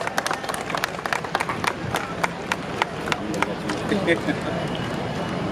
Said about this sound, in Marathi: सगळ्यांनी एकदा जोरदार टाळ्या वाजवायला हवं